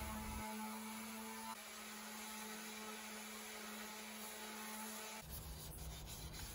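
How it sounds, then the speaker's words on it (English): Steady, continuous scratchy rubbing, like sandpaper worked over wood, with a constant mechanical hum underneath and a brief shift near the end. "took a piece of scrap wood and some sandpaper and started sanding by hand"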